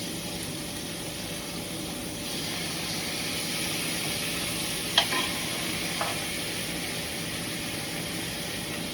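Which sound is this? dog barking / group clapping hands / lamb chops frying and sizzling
lamb chops frying and sizzling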